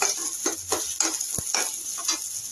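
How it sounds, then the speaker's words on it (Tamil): Onions for an agathi keerai sambar frying in a pan: a constant bright sizzle close by, punctuated by rhythmic spatula scrapes about every half second and one sharp tap. "வெங்காயம் நல்லா வறுத்துங்க ஒரு ரெண்டு நிமிஷம் அவ்வளோனா போதும்"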